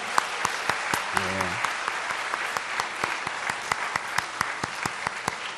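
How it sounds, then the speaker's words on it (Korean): Steady, dense applause from a church congregation at a Wednesday prayer service, clapping vigorously for the children, with sharp individual claps standing out and a brief voice in the middle. "우리 아이들 위해서 축복하는 마음으로 한 번 더 힘차게 박수합니다"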